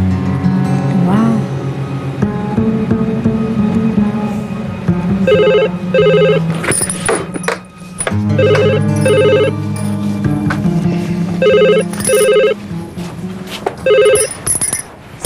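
A mobile phone rings with a repeating electronic ringtone, bursts of bright tones in regular pairs over a low musical background, loud and close, with no talk.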